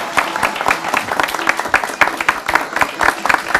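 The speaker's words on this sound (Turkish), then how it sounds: "Ben de böyle güzel sürpriz yapan ustalarıma alkışlıyorum." Applause from a small group at a surprise birthday celebration for a craftsman, steady scattered clapping filling the whole stretch at close range.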